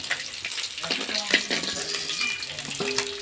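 Small rohu fish frying in hot oil crackle and sizzle steadily, with bubbling pops and scraping, stirring clatter from a utensil moving the pieces around the pan.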